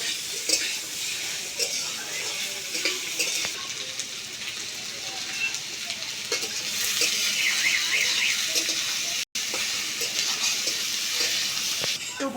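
Chopped potatoes, onion and garlic fry in a pan with a steady, loud sizzle, while a spoon stirs and scrapes repeatedly against the pan.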